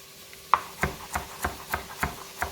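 A knife cuts vegetables on a board while lemon lentil soup is being made, giving a run of about eight evenly spaced, crisp chops close up with no talk.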